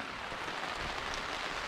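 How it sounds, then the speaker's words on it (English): Heavy, unforecast rain pours down on a remote island campsite, a steady dense patter of drops hitting surfaces, fairly soft and continuous with no voices. "There's been a monumental amount of rain that has fallen, none of which was forecasted."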